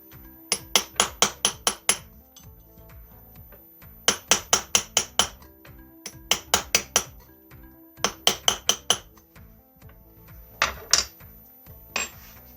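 A small punch struck with a hammer to fold back the lock washer on a Derbi Euro 2 moped clutch nut: four bursts of rapid, sharp metallic taps, about five or six blows each, close and clear with brief pauses between.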